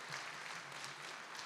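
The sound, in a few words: audience applause at annual meeting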